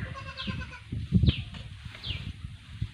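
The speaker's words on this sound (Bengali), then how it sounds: "এটা একটা মা ছাগল।" A Black Bengal mother goat on a farm bleats several times in short, nasal calls at close range, with a soft rustle and faint background noise between them.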